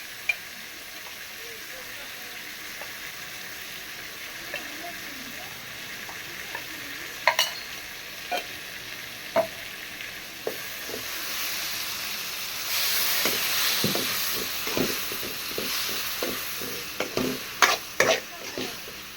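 Masala with chili powder sautés in a pan for a paneer egg curry, a continuous sizzle that grows hissier partway through, with repeated scraping stirs and spoon knocks near the end.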